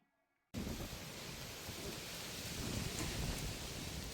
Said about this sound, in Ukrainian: Зараз буде гроза. Дощ просто висить в повітрі.